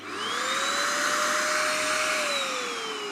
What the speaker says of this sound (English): This is an Eureka 4 vacuum cleaner cum blower.